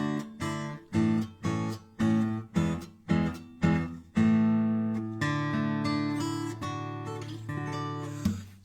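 A 2004 Bourgeois JOMC extra-long-scale acoustic guitar with old 80/20 bronze strings rings out in a series of plucked, separated chords, then a sustained strummed chord and further ringing notes, close and clear with no talking.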